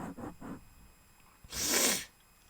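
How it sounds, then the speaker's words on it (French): Nasal sniffing close to the mic during a relaxed ASMR-style session: three quick short sniffs, then a pause and one long, loud, breathy snort-like inhale before quiet returns. "J'espère que vous aimez le reniflage"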